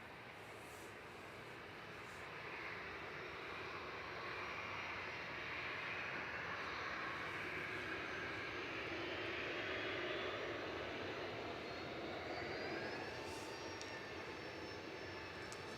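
A passenger plane departs Manchester Airport bound for Tangier, a loud, sustained engine roar that swells steadily and holds for the whole stretch, with no talk over it.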